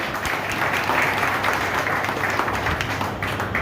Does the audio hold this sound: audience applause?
yes